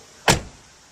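A door on a 2000 BMW E39 M5 swinging shut, heard as a single solid thud that decays quickly in a quiet car interior.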